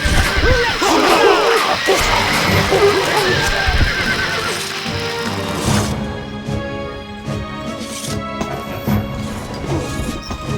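Horses whinny loudly and hooves clatter amid crashing battle noise in the video game Stronghold Definitive Edition, the neighs dominating the first half before fading into scattered thuds and clanks.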